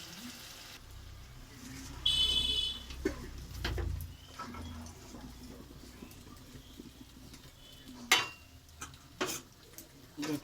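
Pumpkin greens stirred in a pan with hilsa fish head and a little water, making soft intermittent scrapes and clatters over a faint simmer, fairly quiet with a few sharper knocks.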